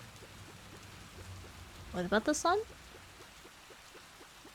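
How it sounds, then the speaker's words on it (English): Steady rain in the video game Whisper of the House hisses throughout, with a brief spoken phrase rising over it midway. "No, it's raining all day?"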